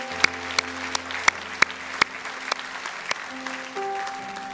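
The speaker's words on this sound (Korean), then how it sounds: "우리 하나님께 감사의 박수 올리겠습니다" A handful of slow, evenly spaced claps ring out over soft sustained music during a Korean church Sunday service, sharp and distinct rather than a full crowd's applause.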